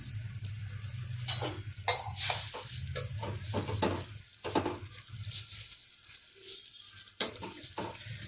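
Roasted vermicelli is tipped into a pot of boiling water, with faint rattles, a stir-like clatter and soft bubbling that come in brief bursts over a low simmer.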